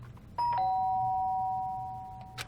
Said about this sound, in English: The sound of a doorbell forced its way into my room.